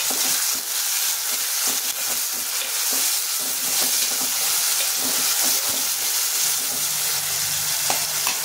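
Tomato pieces and green chillies frying in oil with onions in a pan, a steady broadband sizzle with soft stirring scrapes running throughout at close range, no voices.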